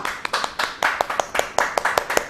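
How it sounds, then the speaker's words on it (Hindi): Applause from an audience at a live Ayurveda health show, heard as a short burst of individual hand claps in an uneven rhythm, fairly close and moderately loud, with no talking over it. "फिर से एक बार जोरदार तालियां।"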